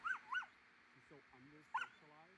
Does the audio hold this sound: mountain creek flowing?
no